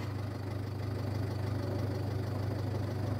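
A Ford Fiesta 1.4 TD diesel engine with a cylinder 2 injection circuit fault idles close by, a steady low rumble with an even, rapid knocking pulse and no talk.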